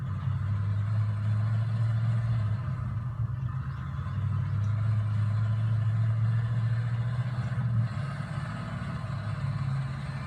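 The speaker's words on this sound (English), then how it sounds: "this thing's a 5-cylinder. It's not a V6 and it's not a V8." A Chevy Colorado truck with a five-cylinder engine, in the Spin Tires game, driving through mud in two-wheel drive: a steady, low engine drone that holds evenly throughout with small shifts in pitch and no talking.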